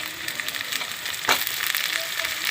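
Chopped onions and green chillies sizzle hard in hot oil for a brinjal and tomato curry, a steady close, crackling fry with a brief sharper stir or clatter partway through.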